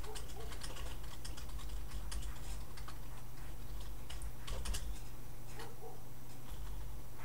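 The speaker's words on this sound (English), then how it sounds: "So you just type your presentation" Keys clatter in quick irregular bursts as a presentation is typed on a computer keyboard, close and fairly soft over a steady low hum of room noise.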